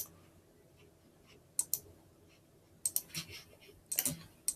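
Scattered bursts of computer keyboard keystrokes, light quick clicks in a few short clusters separated by quiet pauses, close and fairly soft.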